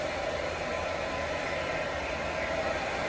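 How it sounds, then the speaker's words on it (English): A blow dryer on a low, warm setting dries hair, giving a steady, even whoosh of air that runs unbroken and fairly close throughout, with no voices. "I just really like this dryer. I really do. The blow dryer, I really do."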